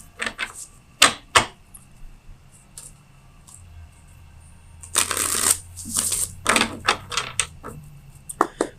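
Tarot cards being shuffled: a few quick riffles near the start, then a longer burst of shuffling and several crisp card snaps and slaps, close and fairly loud.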